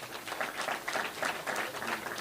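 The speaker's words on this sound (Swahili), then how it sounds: "wapigieni makofi" A crowd at a political address at party headquarters breaks into applause, a dense steady patter of many hands clapping at moderate distance for a couple of seconds.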